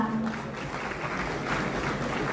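Applause from an audience at an official stage ceremony where revenue village title deeds are handed out, a steady, dense clapping wash that holds at even loudness throughout with no talk over it.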